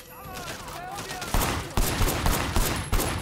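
Gunfire in Sleeping Dogs Definitive Edition, a dense run of shots with several punchy bursts rising over game sound and background chatter.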